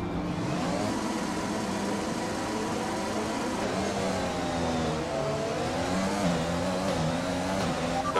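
F1 2020 race cars pull away from the grid at a race start, several engines rising and falling in overlapping revving whines under a steady, busy drone.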